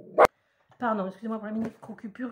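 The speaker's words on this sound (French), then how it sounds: "désolé pour le chien" A dog barks once, sharply and close, indoors at home, before someone speaks in French over the rest of the moment.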